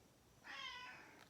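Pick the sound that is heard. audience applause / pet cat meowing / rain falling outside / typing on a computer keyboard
pet cat meowing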